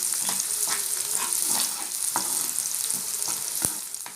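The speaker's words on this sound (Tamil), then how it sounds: "இப்போ வெங்காயம் நல்லா வதங்கிடுச்சு" Chopped sambar onions are sautéing in a hot pan for vadicha kanji, giving a loud, dense, steady sizzle broken by occasional scrapes and taps of a stirring spoon.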